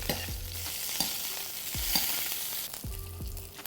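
A coho salmon fillet pan-frying: a steady close sizzle lasting a few seconds, with a few soft knocks and scrapes from the pan and no talk.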